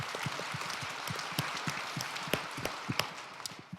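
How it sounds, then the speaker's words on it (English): Conference audience at a petroleum event applauds, a steady wash of many hands clapping at moderate distance with scattered sharper claps standing out. "I want the attendants to all give yourself a round of applause."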